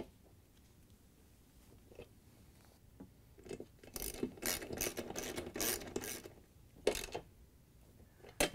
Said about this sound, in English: We're going to use our half-inch socket again.